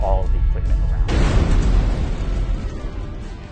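A gas well blowout explodes and erupts to the surface, a loud broad roaring burst that swells suddenly and rumbles on steadily with heavy low-end power.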